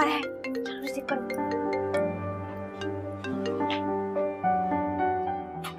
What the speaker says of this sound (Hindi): ताज, ताज का फोन आ रहा है